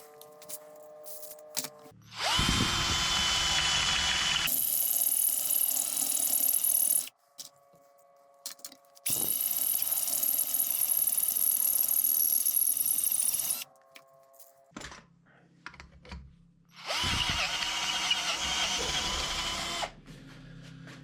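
A Parkside PBSA 12 D2 cordless drill whines loudly through three long bursts of drilling an 8 mm hole, separated by short pauses with quieter handling noises.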